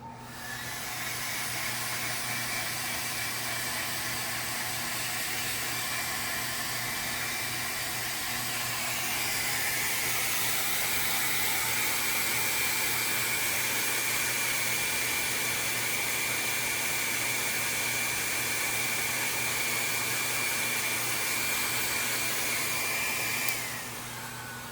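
A hair dryer blows steadily and loudly over freshly applied alcohol ink, a continuous whooshing hiss that shifts pitch slightly partway through as the airflow changes, then cuts off at the end.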